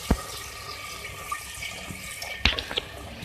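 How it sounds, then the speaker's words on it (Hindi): Two glasses of water are poured into a pot of browned beef for a clay-pot matka gosht curry. The sound is a quiet, watery splashing with a few sharper splashes near the start and end, and no talking. "इसको हम गलाने के लिए इसमें पानी ऐड कर रहे हैं 2 गिलास"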